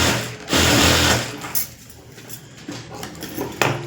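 A sewing machine runs a half-inch seam along a lining in short bursts, its close steady whirring rising and falling as stitching starts and stops, with no talk.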